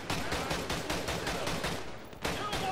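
Rapid automatic AK-47 fire in the video game Modern Warfare 2 Campaign Remastered, a steady burst of evenly spaced loud shots with a brief break before firing resumes.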